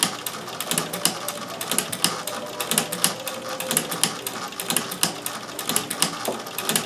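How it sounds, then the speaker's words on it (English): Singer 201K sewing machine with a hemstitcher attachment stitching fabric, a fast steady mechanical clatter of needle and piercer strokes running continuously and close up, with no voices. "I'm just sewing beside the set of holes I did a second ago"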